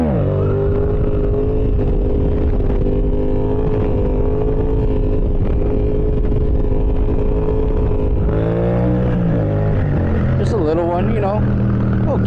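A motorcycle engine holds a steady loud drone, then revs up in rising surges as the bike lifts into a wheelie, close and continuous with heavy wind buffeting.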